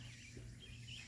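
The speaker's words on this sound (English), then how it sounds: "listen to the birds. The birds are really active today." Birds chirp faintly outdoors, with quick high twittering calls over a low hum of background noise during work on a Ford F350 truck.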